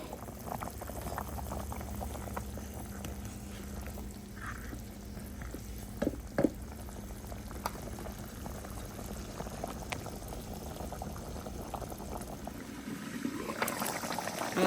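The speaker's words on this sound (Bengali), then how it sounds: "এখন ঢেকে রান্না করব যে পর্যন্ত মাংস সিদ্ধ না হয়।" Chicken curry made with country chicken simmers in a covered pot, giving a soft, steady bubbling and hiss throughout with a few faint clicks and taps, fairly quiet and with no voices.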